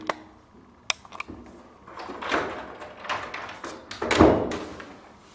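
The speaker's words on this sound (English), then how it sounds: "let's knock on the door and see" Knuckles rap on the door of a city flat in Edinburgh: a few sharp isolated knocks early on, then a louder cluster of thumps and rattles nearby, with no talk.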